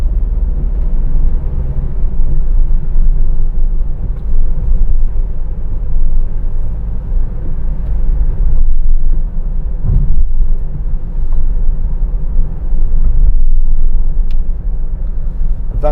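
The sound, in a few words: 2013 Mercedes-Benz Vito 113CDI van driving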